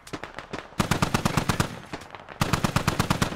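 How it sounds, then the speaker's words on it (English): A DShK heavy machine gun fires in the video game Squad, sounding as rapid, loud, close bursts of evenly spaced shots, with a short pause between a long burst and a second one. "The Dishka's looking for things to shoot now. The Dishka has found things to shoot."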